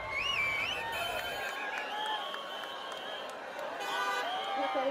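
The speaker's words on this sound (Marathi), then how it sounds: "विजयानंतर शिवसैनिकांनी या ठिकाणी जल्लोष केला" Shiv Sena supporters celebrate Gulabrao Patil's election win in Jalgaon Rural with steady crowd cheering, shouting and whistle-like tones, an unbroken, fairly loud wash of voices throughout.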